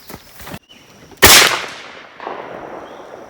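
A single loud rifle shot cracks at an outdoor shooting range, a sharp blast trailing into a lingering echo, preceded by faint handling clicks.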